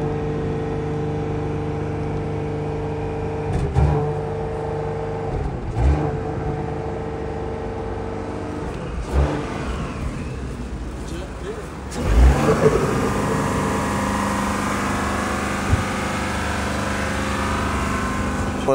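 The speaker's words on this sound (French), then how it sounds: "Écoutez le bruit d'échappement." A 2022 Porsche Cayenne engine rumbles steadily through its exhaust for a long stretch, with a few brief revs rising above the idle and a louder surge near the middle.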